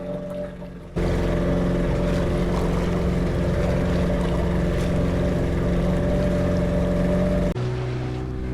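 A motorboat engine on a dolphin tour at Lovina Beach, Bali, roars in steadily and loud, droning for several seconds before dropping back to a quieter hum.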